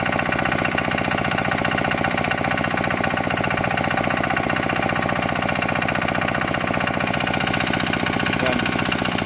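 A new motor engine being broken in at home runs loud and steady with a fast, even mechanical pulse and no pauses.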